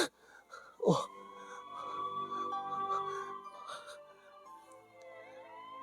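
An ambulance siren wails with sustained, slowly shifting tones, steady and moderately loud, after a brief thump at the start.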